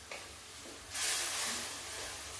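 Ginger and black cardamom masala frying in a pan for a cabbage dish, a steady close sizzle that swells louder and brighter midway, then holds with a constant hiss and no talking.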